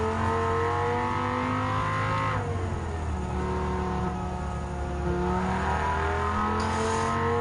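A Toyota GR Yaris race car engine in Gran Turismo 7 drones loudly and steadily on a snowy racing course, its pitch dropping and climbing again through gear changes and throttle shifts, with no voices.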